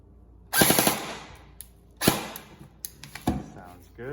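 Taiwangun airsoft rifle, a SCAR H or 416 type, firing test shots: three sharp snapping bursts spaced about a second and a half apart, close and fairly loud, with faint rustling between them.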